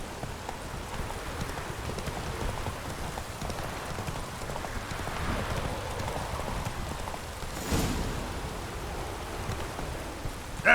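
Horse hooves in The Witcher 3 beat a steady clip-clop through the whole stretch under constant rainfall, with a brief louder burst near the end.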